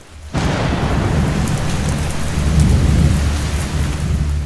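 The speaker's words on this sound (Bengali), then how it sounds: "হঠাৎ বাইরে একটা ভীষণ বাজ পড়ার আওয়াজ হলো" A loud, sustained thunder roll over heavy rain in a cartoon horror story, starting abruptly and staying dense and steady throughout, with no voices.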